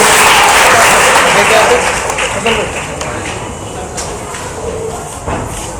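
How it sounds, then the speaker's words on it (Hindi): Audience applause at a school mushaira (poetry event) starts loud and dense, then gradually thins and softens into scattered claps over several seconds. "जोरदार तालियां बजाइए।"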